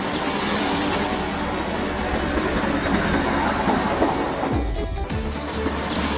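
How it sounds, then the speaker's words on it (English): A railway track lift vehicle for switch leveling rolls along the rails with a loud, continuous rumble and metallic clatter, close by and steady throughout. "This unique train is a switch leveling vehicle, or more simply, a track lift vehicle"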